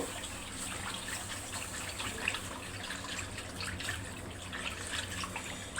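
Two kilos of milk poured into a cooking pot, a steady continuous liquid gush and splash lasting throughout, close and moderately loud with no talking.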